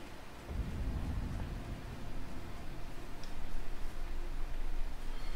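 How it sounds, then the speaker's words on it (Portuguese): Steady rain patters over a low rumble of thunder in the video game Elden Ring, a continuous wash of noise with a heavier roll near the start, with no voices. "Chovendo, moça."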